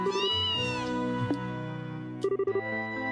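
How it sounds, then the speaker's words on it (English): Kittens meow repeatedly in the video game Trails in the Sky SC, several high, clear mews layered over steady game background music. "I just noticed too, we have the little kittens"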